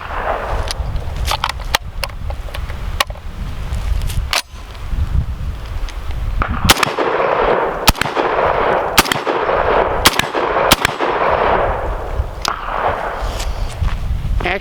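A VR 80 shotgun fires Winchester military 9-pellet 00 buckshot: a string of loud, sharp blasts at uneven intervals, close up over steady outdoor background noise, with no talking.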